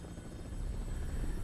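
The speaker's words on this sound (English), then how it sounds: "I can fly the helicopter straight without looking exactly where I'm going" A helicopter flies in the video game Resident Evil 6, its rotor and engine giving a steady low throbbing drone with a faint whine above, close and continuous.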